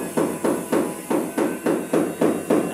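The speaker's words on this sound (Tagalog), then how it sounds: "ganyan lang kadali mag-tiles yan. Pukpok dito, pukpok dyan" A hammer pounds a floor tile during tile laying, about ten loud, evenly spaced strikes in a steady rhythm, close by with no talking.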